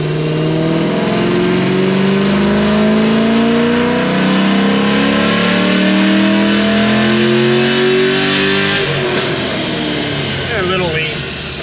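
Chevy SS with a manual transmission, a V8 fitted with headers and a cam, revving on a dyno: a loud, close engine climbs steadily in pitch through a long pull, then backs off with a burbling rumble.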